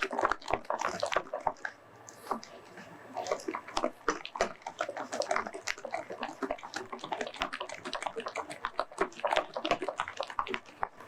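Rapid, wet slapping and squelching of thick lentil vada batter being beaten by hand, continuous and close, with no talking.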